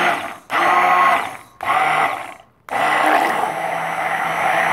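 Immersion blender whirring through fat bomb ingredients in a kitchen in three loud bursts, two short ones with brief pauses between them and then a longer steady run.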